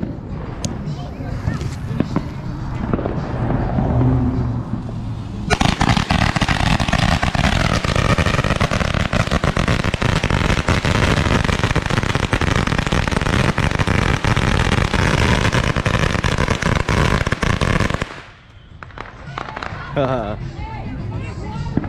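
A string of 1,000 Black Cat firecrackers goes off in a neighborhood, a dense, loud, continuous crackle of rapid bangs lasting about twelve seconds before stopping abruptly, with voices heard before and after.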